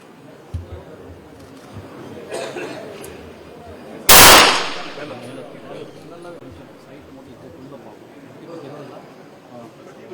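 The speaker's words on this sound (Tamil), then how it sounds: "துப்பாக்கி மூலமாக இந்த போட்டி தொடங்கி வைத்திருக்கிறார்கள்" A single sharp, loud gunshot rings out as a minister fires a gun to start a race, standing out briefly above steady crowd noise and nearby talk.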